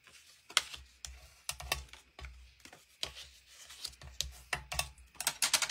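A bone folder creases fold lines into paper while a paper box is made, giving short broad scraping strokes in an uneven rhythm, close and fairly quiet, with no talking.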